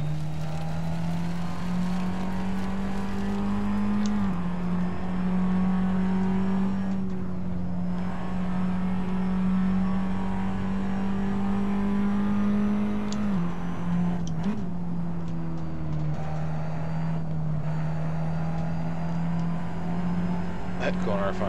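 A Formula Abarth race car at Sepang holds a steady, droning engine note through a corner, rising slightly and dipping with gear and throttle changes, heard continuously from on board with a voice talking over it.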